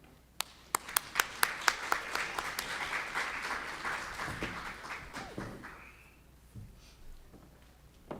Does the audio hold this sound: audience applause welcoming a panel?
yes